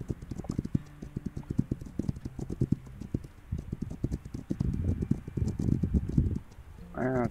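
Horse hooves clip-clopping in the open-world game This Land Is My Land, a quick, close, steady rhythm of hoofbeats with someone talking over parts of it.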